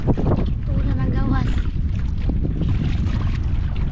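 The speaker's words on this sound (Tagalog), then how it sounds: "Hangin na naman." Steady wind buffets a small fishing boat out on open water, a constant rushing roar across the whole stretch with people talking faintly underneath.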